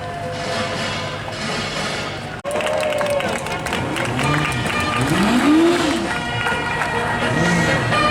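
Heritage F2 stock cars at Arlington circle on a lap of honour after the Heritage Final, a continuous loud engine roar with rising and falling pitch sweeps as cars pass close by, and a crowd murmuring underneath.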